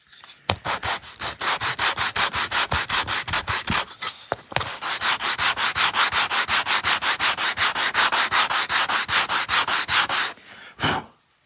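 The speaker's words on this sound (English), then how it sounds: "I just needed to deburr it" Rapid, rhythmic rubbing strokes of sanding as a small wooden part for a miniature table is deburred, loud and close, with a brief pause midway and no talking.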